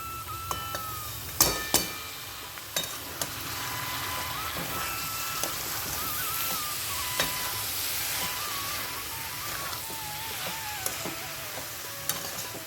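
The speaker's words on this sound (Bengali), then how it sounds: "মোচাটা দিয়ে পাঁচ সাত মিনিট একটুখানি নাড়িয়ে নেবো আমি" Boiled banana flower stir-fries in a prawn masala, a soft continuous sizzle with intermittent sharp clacks and scrapes of a spatula against the pan, fairly quiet and close.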